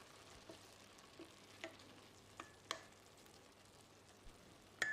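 A spoon scrapes and stirs through a pot of basmati rice for mutton biryani in quiet, scattered strokes, with a faint low hum underneath.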